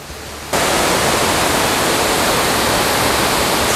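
Waterfall at Bengoh Dam roaring in a dense, steady rush that starts abruptly after a half-second and then holds loud and unbroken, with no voices over it.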